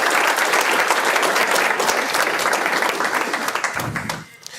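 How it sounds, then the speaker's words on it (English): An audience applauds a lecture speaker in a hall, a dense, loud wash of clapping that holds steady and then thins out and fades over about four seconds. "let's give a big round of applause for Dr. Tour."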